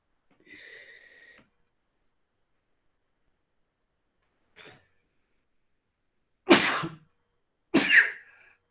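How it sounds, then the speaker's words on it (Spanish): Two sharp, loud sneezes close to the microphone near the end, preceded by a quiet wheezy intake and a brief faint noise, in an otherwise silent room. "Momento que estornudo."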